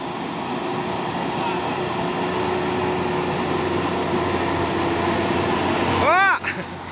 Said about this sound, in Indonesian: Dan di belakang ada truk HDL 136 PS.